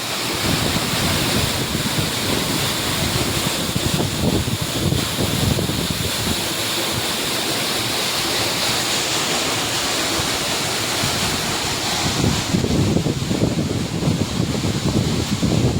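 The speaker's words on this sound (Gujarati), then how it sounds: "કુવામાં પાણી જાય" Water flowing into a well on a farm, a steady, loud rushing and splashing that fills the whole stretch, with some wind noise over it and no talk.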